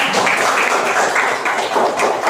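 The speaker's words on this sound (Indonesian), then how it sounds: "tepuk tangan semuanya." A class of pupils claps hands together in a dense, steady round of applause. The many overlapping claps are close and sustained, with no pause for the whole moment.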